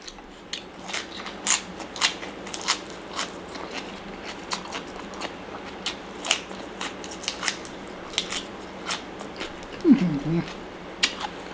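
Someone chews crisp lettuce from a spicy fresh shrimp salad, with sharp, repeated crunches in an irregular rhythm, close and fairly quiet, and no talking.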